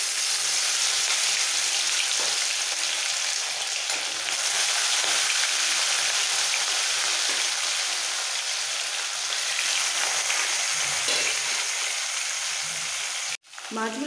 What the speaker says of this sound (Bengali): সর্ষের তেলটা ভালোভাবে গরম হয়ে গেছে, তেল থেকে ধোঁয়া ছেড়ে দিয়েছে। এই সময় নুন হলুদ মাখানো কাঁচা মাছগুলো ছেড়ে দিচ্ছি।